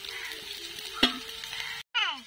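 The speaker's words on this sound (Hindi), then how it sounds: "तो देखिए तो उसी तेल में हम तेज पत्ता डाल देते हैं" A bay leaf goes into hot frying oil in a kadhai while cooking a spicy suran curry, giving a short sharp sizzle and stir clatter over steady close frying hiss.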